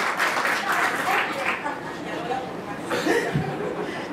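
Audience applause at a round-table library and information science colloquium, moderate clapping with some chuckling and a voice speaking over it, tapering off midway before a brief swell.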